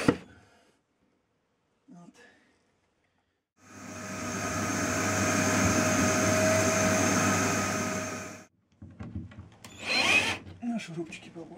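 A power screwdriver whirs steadily for about five seconds while driving a screw into wood, loud and close, with brief handling noises and short bits of talk before and after.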